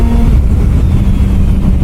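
A Kawasaki Z900 RS Cafe motorcycle accelerating hard, its engine roaring loud and close in a steady, unbroken drone with no voices over it.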